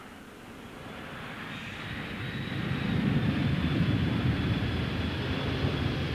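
Aircraft engine noise at the main air terminal of RAF Akrotiri, Cyprus, as the weekly trooper flight from Brize Norton arrives: a steady broad roar with a thin high whine, rising and holding loud, no talk.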